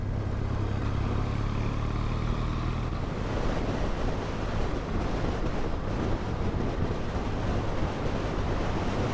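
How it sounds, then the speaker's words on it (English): A gushing river rushes below a lush, rain-soaked roadside in the Scottish Highlands, a loud continuous roar mixed with wind buffeting and a low engine hum from riding Triumph motorcycles. "Gushing river down there."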